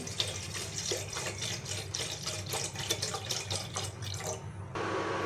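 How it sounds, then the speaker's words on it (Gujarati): One litre of packaged milk poured into a pot for doodh pak, a steady splashing stream of liquid that runs for several seconds before cutting off, close and moderately quiet. "એમાં નાખીશું 1 લીટર દૂધ."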